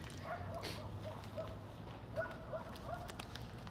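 Dogs barking far off in the distance, a faint run of repeated yaps spread across a low, steady outdoor background hum.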